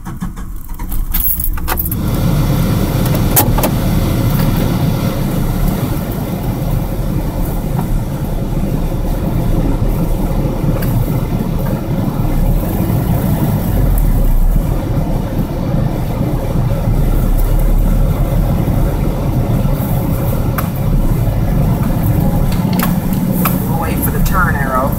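A car engine runs steadily through clutchless gear changes, floating the gears while driving, its loud continuous drone with faint jingling on top for about twenty-five seconds.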